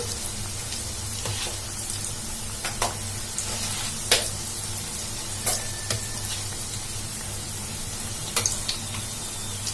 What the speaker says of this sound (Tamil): நம்ம இன்னொரு சைடும் இதே மாதிரி திருப்பி விட்டு நல்லா ஃப்ரை பண்ணிக்கலாம்